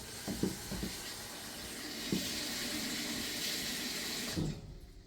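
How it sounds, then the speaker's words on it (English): Water runs from a kitchen tap in a steady, continuous stream for several seconds, with a few light clunks at the start and a clatter as it stops, no talking. "I am going to grab some water."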